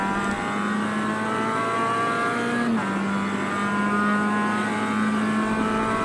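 A Mazda MX-5 Cup race car in the iRacing video game at Road Atlanta drones loudly at high revs, with a brief gear change partway through before the engine pulls steadily on again.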